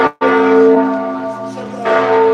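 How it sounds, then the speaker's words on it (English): A church bell rings out loudly nearby on a Gothenburg street at night during the Christmas season. Its sustained, ringing tone briefly cuts off, then a fresh strike swells again near the end. "You can hear that there's a bell ringing."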